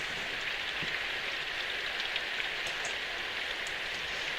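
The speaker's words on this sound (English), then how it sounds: "The falling rain was cold" Cold rain falls steadily in the Symphonic Rain video game, a soft, even hiss of drops on surfaces that stays constant and unbroken throughout, with no voices.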